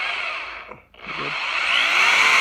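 A power drill whines steadily, dipping briefly as it slows, then rising and grinding harder as it bites through metal on a 300,000-mile Chevy Silverado, loud and close.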